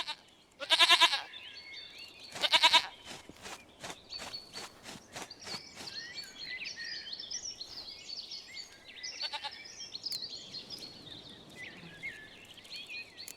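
Goat bleats twice from a goat in The Witcher 3 game world, loud and close, followed by softer bleats and footsteps over a busy, chirping ambient background.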